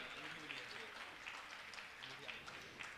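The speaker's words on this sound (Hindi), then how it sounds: "जोरदार ताली बजाएं उनके लिए।" Soft, steady applause from an audience at a Jain religious gathering, a continuous patter of many hands heard at a distance, with faint voices murmuring beneath it.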